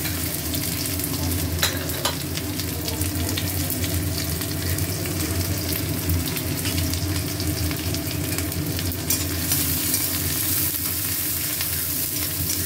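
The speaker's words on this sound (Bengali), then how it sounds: "এবারে পেঁয়াজ দিলাম।" Onions frying in hot mustard oil in a kadai, with a steady loud sizzle and the scrape of stirring running through the whole stretch.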